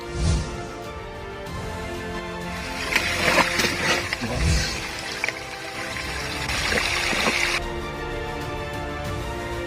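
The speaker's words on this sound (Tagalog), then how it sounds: "We just follow these tracks of water, the streams" Forest stream water flowing and trickling steadily along a trail toward falls in Malitbog forest land, a continuous wash of moderate loudness with a few brief louder splashes or bumps, no talking.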